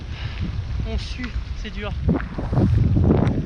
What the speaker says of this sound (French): On a le vent de face avec la pluie.